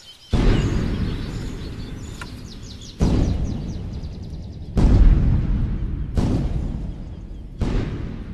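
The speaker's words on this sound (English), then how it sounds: "dynamite is detonated in the nearby quarry." A series of deep booming dynamite blasts echo from a distant quarry, five heavy thuds with rumbling decay, and birds chirp faintly between them.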